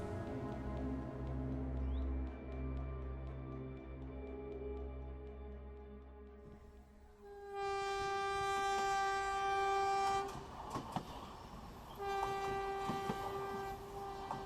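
A train sound effect plays in a Bengali detective audio drama, with a low rumbling engine and long sustained horn tones, then a shift to bright, layered whistle blasts over rattling carriage noise, moderately loud throughout.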